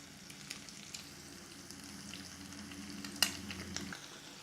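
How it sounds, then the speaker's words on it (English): An egg fries in a pan beside chorizo pushed to one side, giving a steady, close sizzle with a few sharp pops and light scraping clicks near the end. "Start frying that up."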